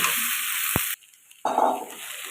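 Boiled jackfruit and potatoes fry with spices in a pan, making a steady, close sizzle. It drops out briefly, then returns with light stirring scrapes.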